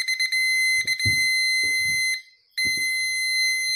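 Steady electronic beeping tones from a car parking sensor detecting a nearby object sound continuously and fairly loud, with a brief gap, while low thumps and handling noises occur underneath.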